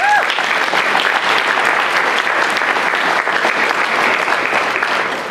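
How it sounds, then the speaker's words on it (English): A packed room of dinner guests at a community fundraising dinner breaks into loud, continuous applause, a thick even wash of clapping that holds steady throughout. "let's have a round of applause for that"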